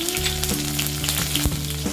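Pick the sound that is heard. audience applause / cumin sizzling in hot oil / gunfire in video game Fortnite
cumin sizzling in hot oil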